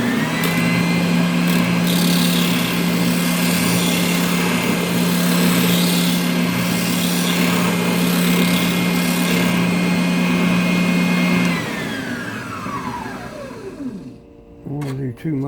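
A belt/spindle sander runs steadily and loudly while shaping a cigar box guitar, a constant motor whine with grinding for about eleven seconds before spinning down to a stop.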